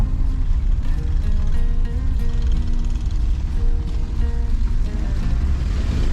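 A motorcycle engine drones steadily under heavy strain while climbing uphill on a mountain, with shifting pitch as it labors, accompanied by constant rushing wind noise.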